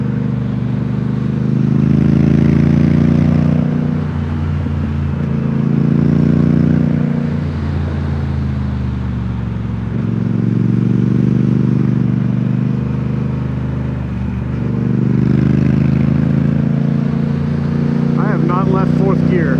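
A Triumph Speed Twin motorcycle cruises in fourth gear on a loose gravel road up to Hurricane Ridge, its steady engine drone rising and falling in long waves while the rider talks over it.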